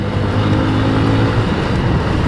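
A Bajaj CT150BA motorcycle engine runs steadily during a test ride, a continuous loud low rumble with road and wind noise and no talk.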